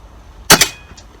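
A single sharp, loud gunshot fired during a chronograph velocity test, a sudden crack with a quick echo that fades within a fraction of a second.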